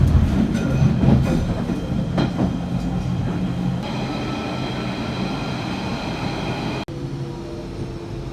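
A train pulls into Hainault station in Essex with a loud, steady rolling rumble and a few rhythmic clacks of wheels over rail joints, settling into a continuous drone as it slows.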